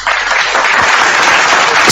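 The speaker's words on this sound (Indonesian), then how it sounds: "tepuk tangan dulu" An audience at an Islam versus Christianity debate breaks into loud, dense applause, a continuous wash of clapping for two seconds that ends in a sharp knock.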